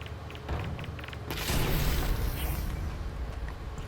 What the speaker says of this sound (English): A little bit of lag with the explosion,